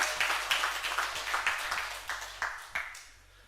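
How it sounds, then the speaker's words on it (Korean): Church congregation at a Sunday service clapping in encouragement for the choir, a short round of distinct, fairly close hand claps that thins out and fades toward the end. "또 우리 찬양대에게도 격려의 박수 하겠습니다."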